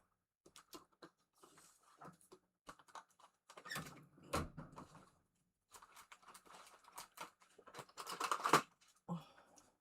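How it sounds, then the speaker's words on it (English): Scissors snip paper during a crafting session, giving short, close, intermittent cuts separated by quiet gaps, with some rustling and handling noise. "Scissors."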